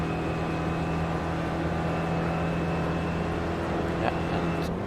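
The steady engine drone of an SRF race car in a sim racing game at Summit Point holds a constant pitch, loud and close, with a faint click near the end.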